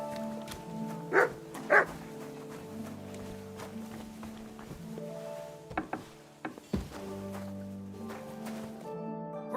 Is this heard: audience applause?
no